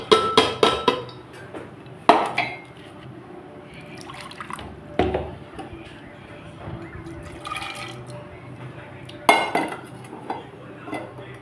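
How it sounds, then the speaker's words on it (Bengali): Water and chickpea dal poured into a pressure cooker in a home kitchen, with metal clinks and clatter of pots, splashing and dripping between quieter stretches, close by with some background noise. "প্রেসারে দিয়ে দিলাম জল, দিয়ে দিচ্ছি বুট ডাল"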